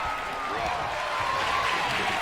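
A steady roar of crowd noise from the WWE 2K22 wrestling game, a continuous wash of cheering held at an even level for a couple of seconds.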